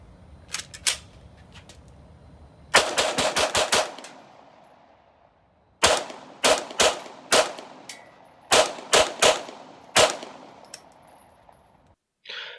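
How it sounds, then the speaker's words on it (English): Tec-9 pistol fired at an outdoor range: sharp gunshots, first a pair, then a rapid burst of about six, then single and paired shots at uneven intervals, loud and close with ringing tails. "we're taking this to the range and we're going to see how it shoots"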